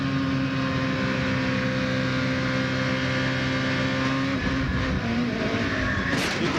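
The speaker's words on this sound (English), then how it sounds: "You could almost hear the engine rev up just as the back broke loose." A 2004 NASCAR Craftsman Truck Series race truck's engine drones loud and steady from onboard, its tone dropping sharply near the end as revs shift.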